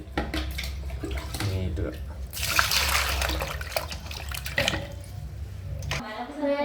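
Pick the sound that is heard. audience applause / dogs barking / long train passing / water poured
water poured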